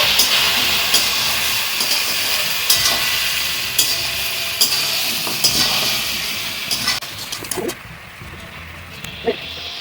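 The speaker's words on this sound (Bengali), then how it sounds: "এবার একটু নাড়াচাড়া করবো।" Mutton with spices is stirred in a sizzling cooking pan, a steady frying hiss with scattered scraping clicks of the utensil, close and continuous, briefly quieter toward the end.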